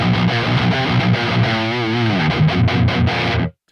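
An electric guitar plays through a Quad Cortex 5150 amp preset, heavily distorted chords and sliding notes ringing loud and sustained for over three seconds before cutting abruptly to silence.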